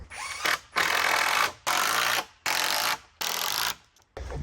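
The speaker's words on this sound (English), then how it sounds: "So I'm gonna screw this to one of the deck boards." A cordless power drill drives screws through a board into a trailer deck, whirring loudly in four long bursts separated by short pauses, then a brief final spin.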